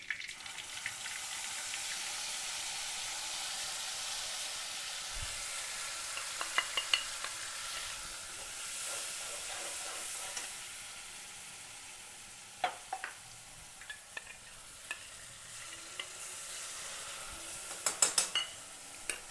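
Masala with garlic sizzles in a pan and is stirred for a Kathiyawadi dhokli shaak, giving a soft, steady frying hiss broken by occasional scrapes and clinks of the spoon.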